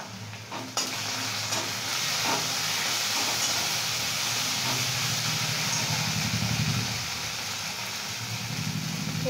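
Cumin paste hitting a hot pan of ginger and garlic for a fish curry, sizzling and frying steadily and loudly close by, with a bright continuous hiss and stirring throughout.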